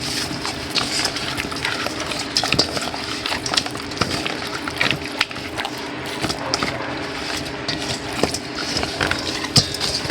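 Spoon scraping and stirring tilapia sarciado with garlic powder in a pan, a steady run of close clinks and scrapes over sizzling, broadband kitchen noise with no pauses.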